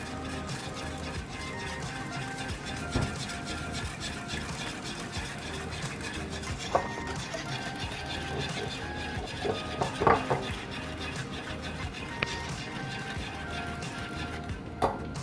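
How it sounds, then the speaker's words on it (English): A spoon scrapes and clinks steadily around a bowl of carrot cake mixture, a soft continuous stirring with occasional sharper knocks against the side, with no talking. "so we just put it in the mixture. Then stir."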